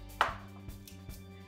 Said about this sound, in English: I'm cutting them big because I want the mushrooms to hold up to the oven as it roasts